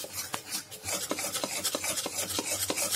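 Gram flour roasting in ghee for besan laddu is stirred and scraped in a pan, making close, rhythmic rasping strokes repeated several times a second.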